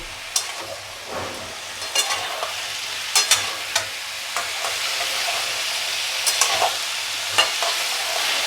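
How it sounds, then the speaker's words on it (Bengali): Spices with asafoetida fry and sizzle steadily in a pan while a spoon scrapes and stirs at regular intervals, close and continuous, with no talk. "এবার আমি এগুলোকে খুব ভালো করে ভাজা ভাজা করব।"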